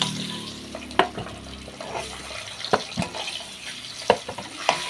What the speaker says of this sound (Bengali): ওদিকে ভালো করে লাল লাল করে ভেজে নিলাম ডিমগুলো